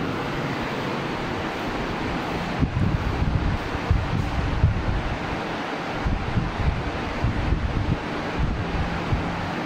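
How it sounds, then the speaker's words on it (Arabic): A steady, loud broadband roar of rushing air from a split air conditioner running at full speed, continuous throughout with slight fluctuations and no voices. "هذا صوت مكيف السبلت."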